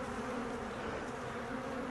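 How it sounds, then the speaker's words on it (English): A dense, steady buzz of honeybees swarms close throughout while they are gently brushed off a hive frame, with no voices over it. "our next step is to do our best to brush these bees off and get as many back into the hive as we can"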